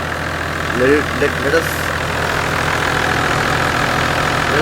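Big 4.5-liter diesel engine of a Toyota Land Cruiser FZJ80 idling with a steady low rumble throughout, and a voice speaks briefly over it.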